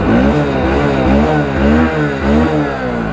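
A Hero Splendor Xtech 2.0 motorcycle engine runs up close and loud, its exhaust note rising and falling through several rev blips with a steady buzzing pulse, no talk over it.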